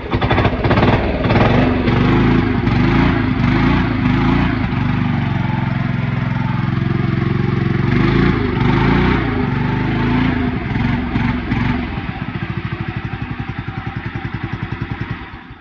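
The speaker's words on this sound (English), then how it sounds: "Do a little cold start. No choke." An old garden tractor with a 12.5 flathead engine, started cold without choke, runs loud and close with a rough clattering drone that turns into a slower, uneven chugging toward the end.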